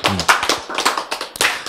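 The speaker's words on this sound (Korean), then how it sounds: "박수!" An audience claps in short, uneven bursts during a Korean lecture on spiritual life, several sharp rounds spread across a moment, fairly close and loud, with no talking over them.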